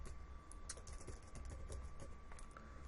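Fingers tap on a computer keyboard in quick, uneven keystrokes, soft and close against a low background hum, with no speech.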